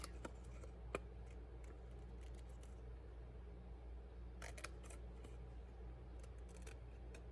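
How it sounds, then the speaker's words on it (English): Small snips fussy cut around a stamped paper image, making faint, crisp snipping clicks in short clusters over a low, steady hum in a quiet room. "now I'm going to take my snips, and we're going to just fussy cut this out"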